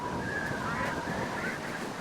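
Honking, nasal calls from a duck swimming in water in the game Minecraft, a continuous close call with a wavering pitch over a rough background.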